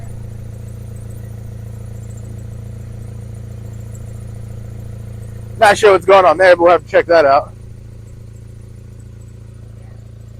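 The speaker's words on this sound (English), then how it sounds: "The motor itself sounds real healthy, real smooth." A steady low Mazda Miata engine idle hums throughout, with someone briefly speaking over it partway through.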